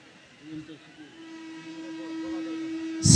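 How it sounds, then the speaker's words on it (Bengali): A long, steady train horn rises out of the murmur of an outdoor religious gathering in Kurigram, growing gradually louder, with a sudden loud burst at the very end. "সাবধানে থাকবেন, ট্রেন আসতেছে।"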